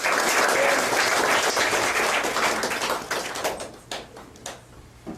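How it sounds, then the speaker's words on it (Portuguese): A church congregation at a deliverance seminar bursts into sustained applause, a dense wash of many hands clapping that holds strong for about three seconds before thinning into scattered claps and fading out. "Vamos aplaudir em nome de Jesus."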